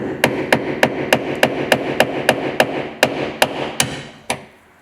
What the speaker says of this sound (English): used a punch and a hammer to make a hole